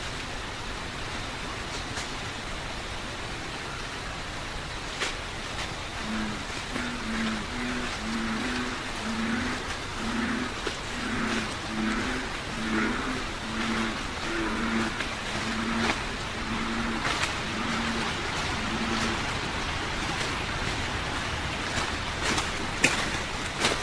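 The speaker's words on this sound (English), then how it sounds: "there were bipedal footsteps captured coming from the direction of Fort Pickett" Bullfrogs croak in a steady pulsing chorus through a noisy night field recording near Fort Pickett, with a constant hiss behind them; no distinct footsteps stand out.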